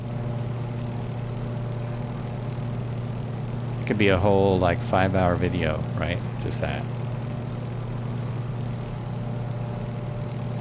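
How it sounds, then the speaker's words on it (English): Inside the cabin of a Beech 18 in flight, the radial engines drone steadily with a low constant hum and tonal buzz, while someone talks briefly over it partway through. "Listen to the engine."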